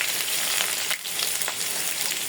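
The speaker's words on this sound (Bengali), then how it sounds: "বাগারের জন্য আমি তেল দিছিলাম, এখানে পেঁয়াজ রসুন দিয়ে দেবো। তেল গরম হয়ে গেছে," Onion and garlic hit hot oil for a dal tempering, giving a steady bright sizzle close up that runs the whole time, with a brief dip near one second and no voices.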